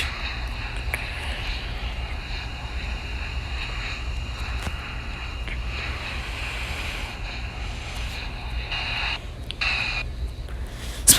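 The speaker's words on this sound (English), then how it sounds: "A380 rolling down at Key West." An Airbus A380 airliner rolls down the runway at Key West with a broad, steady engine roar that swells slightly toward the end, blended with wind buffeting and faint voices in the background.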